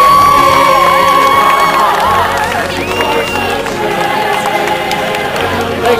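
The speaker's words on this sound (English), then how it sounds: "Can we all give Mitch a big round of applause for coming in?" Outdoor crowd at a pioneer trek event cheers and whoops loudly, with high shouts and children's voices over a mass of clapping and chatter, strong throughout.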